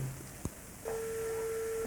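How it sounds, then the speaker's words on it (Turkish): Phone tones from a call placed on a mobile phone paired with a KN100 ECO Bluetooth motorcycle helmet headset: a short beep, a click, then a long steady ringback tone, heard alone at moderate level. "Şuradan kendisini arayayım"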